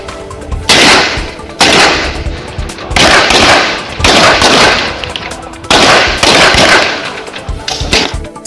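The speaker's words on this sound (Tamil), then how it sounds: "பிஸ்டல், SLR, கார்பன் கன் துப்பாக்கிகளை பயன்படுத்தி போட்டிகள் நடத்தப்பட்டு வருகின்றன." Rapid bursts of gunfire ring out at a police women's shooting competition in Dindigul using pistols, SLR rifles and carbines, loud sharp cracks arriving in repeated clusters with brief gaps between volleys.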